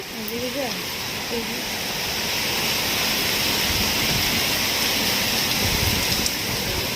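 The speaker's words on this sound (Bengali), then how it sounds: "এখানে আমাদের কত বৃষ্টি হচ্ছে।" Heavy rain pours steadily as a broad, even hiss that holds at a constant loud level throughout, with a brief voice-like tonal sound near the start.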